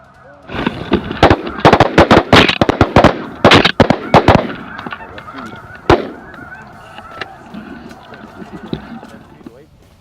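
A flock of snow geese on an Arkansas hunt honks loudly and continuously as the birds come in close, punctuated by sharp, rapid shotgun blasts, then the honking thins as the barrage stops.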